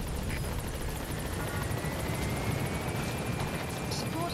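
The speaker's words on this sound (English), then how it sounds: "Support helicopter has arrived." Support helicopter in the video game Metal Gear Solid V: The Phantom Pain, its rotor thumping steadily and close with a constant engine drone throughout, alone without talk.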